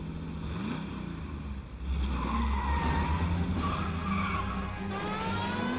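Cars skid through an illegal street race chase in the video game L.A. Noire, a red Ford among them: sustained loud tire squeals warble over a roaring engine rumble, swelling sharply about midway and continuing to the end.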